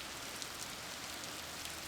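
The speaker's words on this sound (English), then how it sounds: "Rain is coming down in sheets and pouring off the cliffs above the road." Heavy rain pours down in a storm, falling in sheets onto a road below cliffs, a dense, steady hiss of countless drops with no pauses and no voices.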